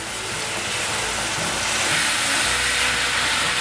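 Vegetables stir-fry in a hot pan seasoned with turmeric and Himalayan black salt, giving a steady, loud sizzling hiss throughout with no talk.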